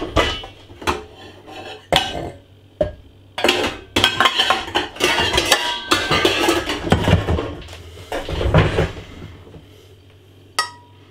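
Metal saucepan rattled and clanked out of a kitchen cupboard among other pots and pans: a loud, irregular run of knocks, clinks and scrapes close by, with pauses between the clatters.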